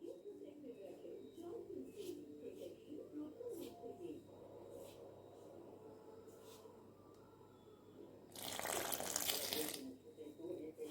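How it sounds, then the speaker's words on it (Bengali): Hot water poured into wheat flour for layered paratha dough: one short, loud splashing pour near the end, after a quieter stretch of kitchen background with birds chirping outside. "এবার আমি এর মধ্যে ফুটন্ত হাত ছোঁয়ানোর মতন গরম জল দিয়ে দেবো।"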